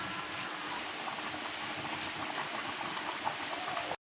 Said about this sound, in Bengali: আরও তিন থেকে চার মিনিট ফুটুক